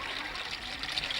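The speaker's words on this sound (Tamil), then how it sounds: "ஒரு கூட தண்ணி விடுப்பா" Water pours steadily into a pot in a short, continuous splashing stream, close and fairly quiet, for about a second.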